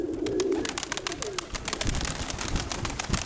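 Pigeons coo and call close by in a loft where a prized champion hen is kept, with bird chirps and shuffling under the steady cooing.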